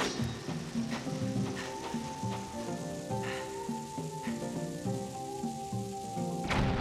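A lit bomb fuse in The Legend of Zelda: Skyward Sword hisses and crackles steadily for several seconds, layered over game music in an underground room, ending with a sharp burst.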